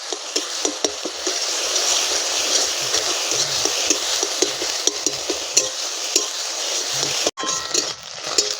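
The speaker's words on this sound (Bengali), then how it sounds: "এবার ভালো করে ডিমটা ভেজে নেব।" Egg fries in a wok, its steady sizzle broken by rhythmic scraping as a spatula stirs and breaks it up, loud and near.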